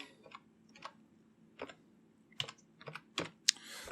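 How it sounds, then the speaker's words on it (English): Typing on a computer keyboard with one hand, irregular bursts of sharp, close key clicks separated by short pauses in an otherwise quiet room. "I was typing with my hand and actually holding my microphone in the other"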